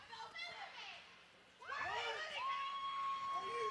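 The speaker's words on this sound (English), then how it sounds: "You get some more extracurricular yelling from the crowd here" A small crowd at a college club hockey game, APSU hosting UAH, breaks into high-pitched yelling and shouting. The noise starts fairly faint and then swells into a louder burst of excited voices.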